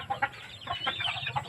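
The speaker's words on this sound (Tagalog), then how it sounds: "Ang manok natin guys oh." Backyard hens clucking in short bursts, several chickens near the microphone with uneven rhythm, no talking.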